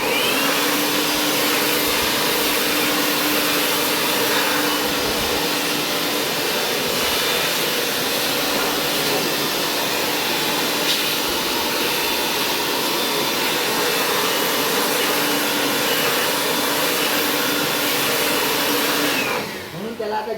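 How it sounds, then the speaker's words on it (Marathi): A jet pump sprays water during air conditioner servicing, producing a loud, continuous motorized whine and hissing spray that holds steady for about twenty seconds before cutting off near the end. "त्याला आता जेट पंप सर्व्हिसिंग म्हटलं जाते"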